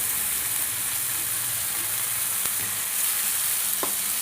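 Spice masala sizzling in a pan while being cooked down for a dish of lote (Bombay duck) fish, a steady broadband frying hiss throughout with occasional faint stirring clicks, no voices.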